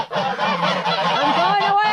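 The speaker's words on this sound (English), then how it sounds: "Stay away from me, geese." Geese honking loudly and repeatedly at close range inside a winter duck and goose house, overlapping harsh calls running throughout.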